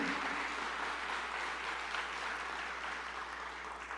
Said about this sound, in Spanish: ¿Cuánto le dan ese aplauso al Señor de gratitud?